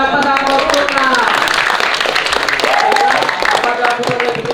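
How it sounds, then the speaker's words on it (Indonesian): Audience applause at a school language ambassador competition (Duta Bahasa) in an SMK hall, a steady, dense wash of clapping that fills the whole stretch, with voices and speech running underneath. "Beri tepuk tangan kepada pasangan nomor 6."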